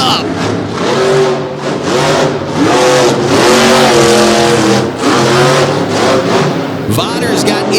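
Racing trucks launch off the line at a No Limits event in Salisbury, 2022, loud engines revving hard and continuously for several seconds under an excited commentator's voice.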